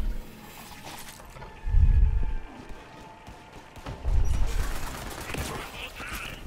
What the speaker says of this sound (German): Oh ja, hier wird schon wieder geschossen.